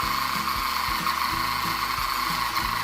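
A Simplicity SideWinder portable bobbin winder pulls thread from a cone with a steady mechanical whir and a rapid, rhythmic ratcheting clatter, close and continuous.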